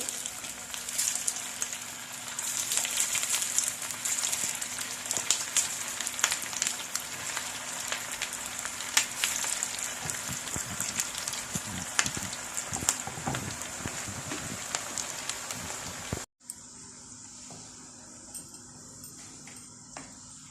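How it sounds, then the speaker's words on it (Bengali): Kebabs frying in hot oil, a dense crackling sizzle that carries steadily for about sixteen seconds, close and fairly loud with no talking, then drops abruptly to a much quieter, softer background. "এখানে যে তেল গরম করতে দিয়ে গেলাম তো আমি এক এক করে এভাবে এগুলি ভেজে নেবো"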